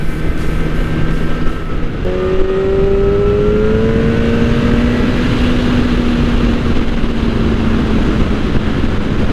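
A Kawasaki ZX-10R motorcycle engine on a ride, a loud continuous drone with a rising pitch that settles and holds steady, wind-roughened and close, no talk.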